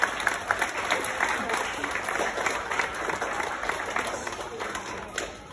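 Big round of applause from a school assembly crowd honouring gold award students, steady dense clapping throughout, fairly close and loud, with a brief swell near the end.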